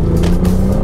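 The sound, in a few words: Ford Fiesta ST-Line 3-cylinder engine accelerating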